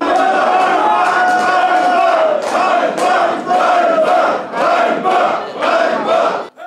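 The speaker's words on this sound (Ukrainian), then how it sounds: "Час від часу в залі лунали вигуки Слава Україні, героям слава на адресу діючої влади ганьба." A crowd at a public assembly of local community members in a hall chants patriotic slogans in loud, rhythmic bursts, voices rising and falling in waves over about seven seconds.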